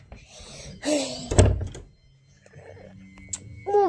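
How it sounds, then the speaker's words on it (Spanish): A door being shut indoors at home, a solid close thunk with a short rattle, heard amid voices speaking before and after it, followed by softer clicks and faint room noise. "Ya cierro la puerta."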